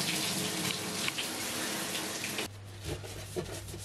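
Water runs steadily from a tap into a bathroom sink as computer parts such as a graphics card are washed, a loud gushing flow that drops to a lower, softer trickle partway through.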